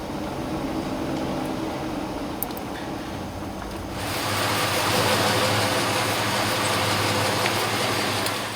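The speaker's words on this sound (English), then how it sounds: "I'm going to apply a little bit of throttle here and you'll hear it stutter even more." GM 4.3-liter V6 in a Safari/Astro van with a faulty ignition coil, running with a steady rough drone that swells louder and fuller about halfway through as throttle is applied, continuous and close with no talk.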